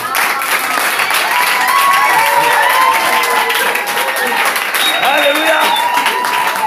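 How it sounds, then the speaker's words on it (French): A church congregation applauds steadily and loudly throughout, with crowd voices and shouts mixed into the dense clapping. "Applaudissons pour le Seigneur."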